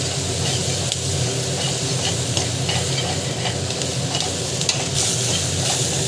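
Pulicha keerai (gongura leaves) sauté in a pan for chutney, a loud continuous sizzle and hiss with steady stirring and scraping close by.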